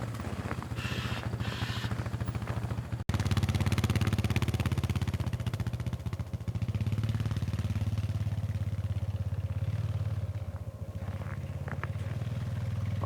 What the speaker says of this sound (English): just as the ship shows up, a quad bike shows up.